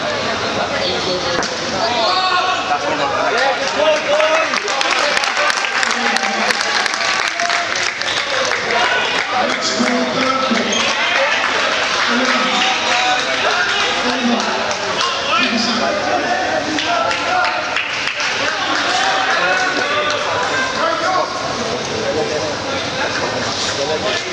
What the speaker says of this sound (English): South Africans in the next door court making too much noise as usual